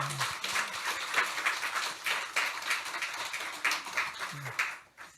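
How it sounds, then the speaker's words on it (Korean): Church congregation applauding the choir at a Sunday worship service, a dense steady wash of many hands clapping that fades out near the end. "오늘 우리 경례 박수하겠습니다."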